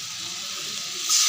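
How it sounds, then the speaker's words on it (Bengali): Water is poured from close by into a pan of cooking spice paste, a soft steady hissing splash that swells slightly at the end. "এবার আমি এতে জল দিয়ে দেবো। জল দিয়ে দিলাম।"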